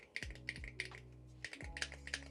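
Keystrokes on a 75% Hall effect keyboard with an 8000 Hz polling rate, clicking in quick irregular bursts, close and fairly quiet, with no voices.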